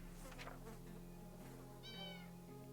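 A cat meows a few times in the video game 60 Seconds! Reatomized, short tonal cries over a low steady game music hum, fairly quiet overall.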